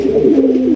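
A large black Rajgolla pigeon gives one short, close, low throaty coo that ends suddenly.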